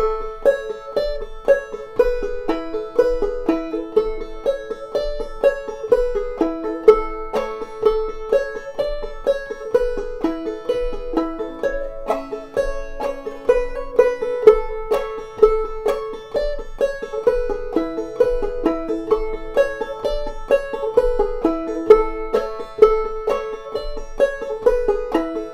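Clawhammer banjo plays the B part of the old-time tune Half Past Four, bright plucked notes and brushed strums in a steady, bouncy rhythm, close and clear with no talking.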